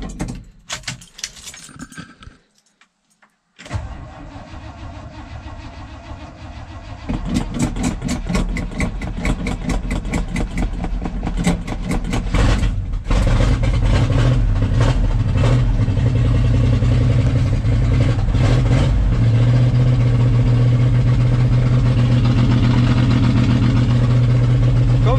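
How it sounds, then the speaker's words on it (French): A 1978 GMC K25 pickup engine cranking and firing up, then settling into a loud, rough, uneven idle that runs on steadily, heard close with some jingling of keys at the start. "Comme vous pouvez l'entendre, le moteur il a mal à la vie."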